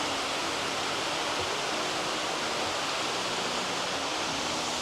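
Steady, dense broadband rush of Thararak waterfall at Ban Chedi Kho, Phop Phra, Tak, a constant roar of falling water with no talk, filling the scene evenly throughout.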